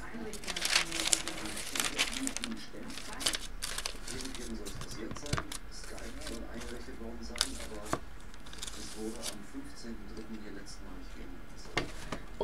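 Paper rustling and crinkling as it is laid over embossing powder and handled, with soft crumpling and occasional taps, close up, under a speaking voice.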